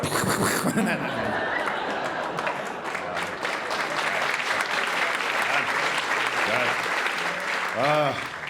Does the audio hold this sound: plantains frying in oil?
no